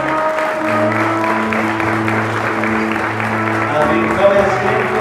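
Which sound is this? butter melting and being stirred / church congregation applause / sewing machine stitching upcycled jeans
church congregation applause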